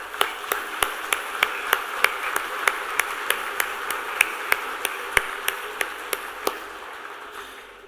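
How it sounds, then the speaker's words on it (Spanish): Audience applause at a political luncheon for a presidential candidate, heard as a steady hall-wide clapping texture with sharp individual claps standing out at a regular beat, fading slightly toward the end. "para usted este aplauso."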